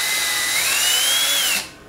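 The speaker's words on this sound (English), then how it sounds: "just to slowly drill out the excess plastic" A power drill whines steadily while boring through plastic, its pitch slowly rising, then cuts off abruptly near the end.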